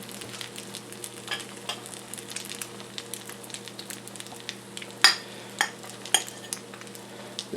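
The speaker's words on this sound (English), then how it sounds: "I have butter warming in the pan there" Butter sizzles quietly in a frying pan during brioche baking, a steady soft crackle with a few sharper pops and light utensil clinks near the end, no talking.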